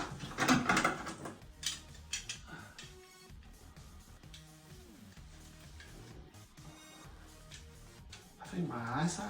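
A small plastic tile height adjuster on a wetroom shower drain is unscrewed, giving a run of ratcheting, grinding clicks at close range, mixed in with someone talking.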